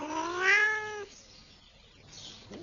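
A cat gives one clear, drawn-out meow up close, followed by quiet and a faint second mew at the end.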